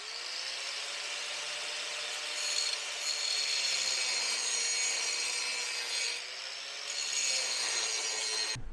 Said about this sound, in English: I'm going to go in here and gouge that up and put a new bead over the top of it.